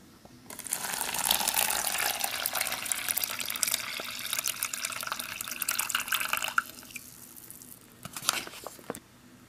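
About 250 ml of water is poured into the drink pouch of a Canadian IMP field ration, a close, fairly quiet splashing and gurgling pour that slows to a few drips near the end.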